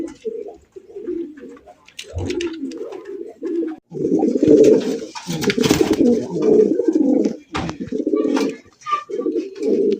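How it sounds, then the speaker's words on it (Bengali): A pair of pigeons coos close by in repeated, throaty bursts that rise and fall over several seconds, with brief pauses between phrases. "দেন কবুতর জোড়া ডাকতেছে"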